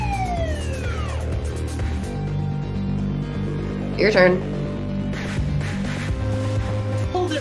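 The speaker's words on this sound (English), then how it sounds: "what I hear next isn't a bell, it's a police siren." A wailing police siren from the video game Hustle Cat sweeps up and down, mixed with background music, and a voice speaks briefly near the end.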